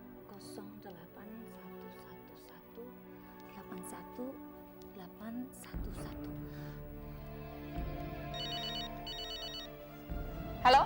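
A mobile phone rings on the line after a number is dialled in a scene from an Indonesian TV drama. Repeated electronic ring tones are heard, fairly faint, over a background of other sound and voices.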